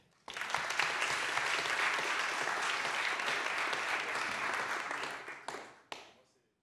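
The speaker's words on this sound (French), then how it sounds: "nous avons deux étudiants qui ont préparé des questions, que je vous remercie d'applaudir" An audience at a conference session applauds two students, a steady burst of clapping for several seconds that tapers off with a few last claps, voices faintly underneath.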